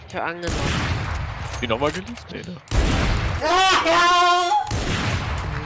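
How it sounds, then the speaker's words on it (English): Bursts of rapid gunfire in the video game Valorant, fired through a wall, with loud shots clustered in two stretches while a voice talks over them. "you can just shoot through this wall a little bit above this box"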